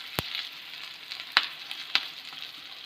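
Sliced onions with Kashmiri chilies fry in a pan for onion chutney, giving a soft continuous sizzle broken by a few sharp crackles and pops, close and fairly quiet, with no talking.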